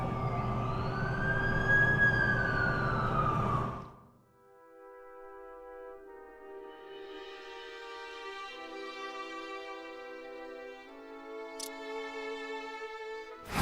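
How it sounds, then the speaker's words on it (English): An ambulance siren wails loudly for a few seconds, then cuts off, followed by a long sustained tonal hum and a sharp click near the end, in a comic-book drama scene. "That's the ambulance I called."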